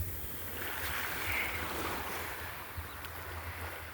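Sea waves wash up on Chavakkad beach at six in the morning, a continuous broad rush of surf with a low rumble and some wind on the microphone, steady and fairly close.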